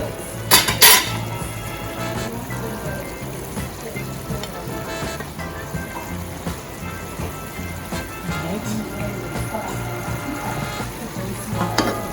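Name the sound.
peppers and onions frying in a pan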